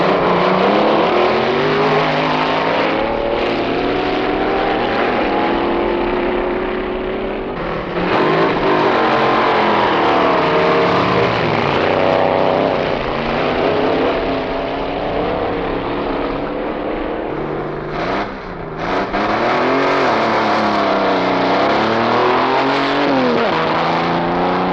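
Hot cars roar down the strip at the 1963 NHRA Winternationals drag races, loud engines revving and accelerating continuously with shifting pitch, no speech.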